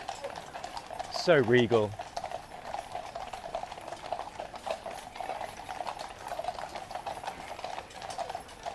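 Household Cavalry horses clip-clop in a faint, steady rhythm throughout, with a brief spoken remark early on.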